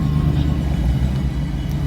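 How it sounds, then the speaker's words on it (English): Cars rumbling past on a nearby road, a loud, steady low drone of traffic that carries through the whole stretch. "Sorry for the noise. There's gonna be a bunch of cars coming by."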